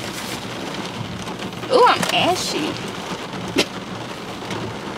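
Steady rain falls outdoors as a continuous broadband hiss, with someone talking over it and a brief sharper crack near the end.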